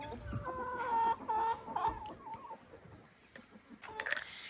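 Hens cluck and chatter close by in a homestead flock, a run of repeated clucks followed by quieter scattered calls and a couple of sharp notes near the end.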